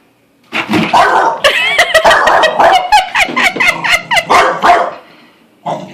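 A dog barks repeatedly and loudly up close when a bucket is kicked, a rapid string of sharp barks and yips with a short pause near the end.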